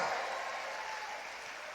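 A church congregation claps steadily at a sermon. The applause is faint, dense and even across nearly two seconds, tapering slightly toward the end.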